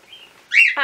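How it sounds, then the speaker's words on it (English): Birds chirp close by outdoors: a faint thin whistle, then a loud bright chirp and a short harmonic call at the end. "apologies for the birds, it's one of those days with them today"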